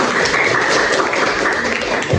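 Classroom applause from a group of students, steady dense clapping throughout at moderate loudness, with some faint voices underneath.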